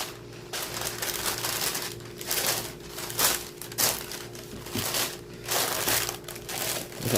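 Wax paper crumpled and crinkled by hand while lining a baking tin for a cinnamon toast cake, a close, continuous rustle rising and falling in bursts with no talk.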